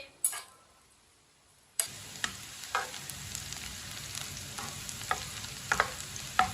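After a brief quiet pause, finely chopped onion bursts into steady sizzling in a pan as it fries until brown, with light clicks and scrapes of stirring scattered throughout, close by.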